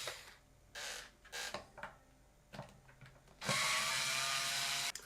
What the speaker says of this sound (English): Electric screwdriver, I forgot I had one.